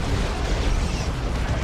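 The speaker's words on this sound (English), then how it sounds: "Trying to throw an anti-vehicle grenade." An anti-vehicle grenade going off in Dawn of War 2, a dull, rumbling blast that stays broad and steady for a moment, fairly soft and with no voices over it.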